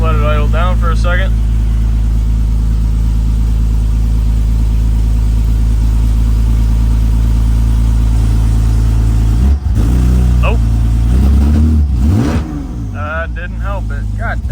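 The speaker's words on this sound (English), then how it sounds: "Fired right up, let it idle down for a second." A car engine that has been running poorly idles loudly and steadily up close, with a couple of brief rev swells near the end. A voice briefly sounds over it.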